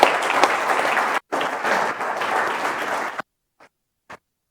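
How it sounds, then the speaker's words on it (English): Audience applause greeting a speaker at the start of a presentation, dense loud clapping for about three seconds that stops abruptly, followed by a couple of faint isolated claps. "I hope you're still applauding at the end."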